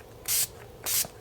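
Skindinavia makeup setting spray gives two short, close hissing mist bursts about half a second apart, each quick and crisp against a quiet room.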